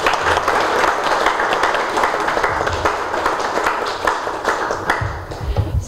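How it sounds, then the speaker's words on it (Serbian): An audience at a book promotion event applauds warmly, with dense, sustained clapping from many hands that holds steady for several seconds. "molim vas da ga nagradite sa jednim velikim aplauzom"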